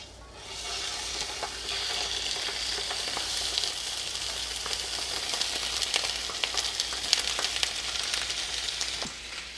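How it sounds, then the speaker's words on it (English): Loud, continuous sizzling fills the space as sausages fry in a skillet, dotted with sharp pops and crackles throughout, no voices. "You can hear the sausages snap, crackling, and popping in the background."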